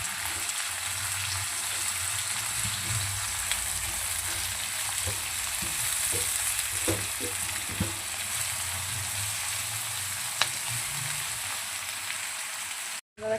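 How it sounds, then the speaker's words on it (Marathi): Onions fry golden in a pan for Hyderabadi chicken dum biryani, giving a steady, close sizzle with faint stirring clicks and no talking. "याला छान असं आपल्याला गोल्डन फ्राय करून घ्यायचं आहे"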